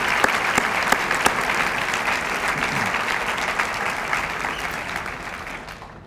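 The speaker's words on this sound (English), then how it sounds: "Let's all give a round of applause to America's #1 collegiate mascot" A hall audience at a university alumni ceremony applauds the Big Red mascot, steady dense clapping with a few sharp individual claps standing out, fading slightly at the end.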